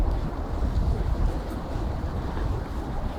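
Cold winter wind buffets a microphone outdoors at 18 degrees Fahrenheit, a continuous low rumbling roar that stays steady and fairly loud, with no speech.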